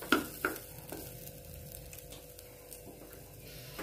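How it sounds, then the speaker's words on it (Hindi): Pushpanna pulao rice frying in a pan, a soft steady sizzle with a couple of light stirring clinks at the start, close and fairly quiet. "थोड़ी सी इसे फ्राई करने के लिए देते हैं, थोड़ी सी फ्राई करते हैं।"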